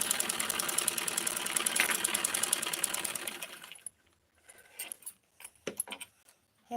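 A sewing machine stitching a blouse, running in a fast, loud, steady rhythmic whir for several seconds, then stopping, followed by scattered clicks and handling noises.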